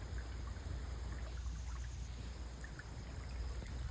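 Irrigation water flows steadily from a pump motor into a village vegetable field in the early morning, a soft, continuous trickling wash that stays faint and even throughout with no voices.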